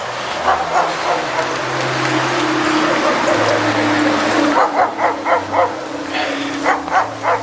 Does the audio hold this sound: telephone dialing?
no